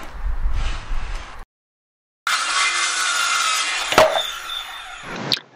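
Circular saw cutting wood guided along a rafter square, starting with a quieter working sound, then a pause, then the blade spinning up into a loud, steady rasping cut with a sharp click near the end.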